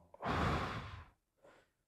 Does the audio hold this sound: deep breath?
yes